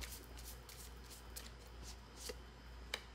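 Playing cards are handled and dealt, giving soft repeated flicks and snaps at close range over a quiet background hum, with a few sharper card slaps.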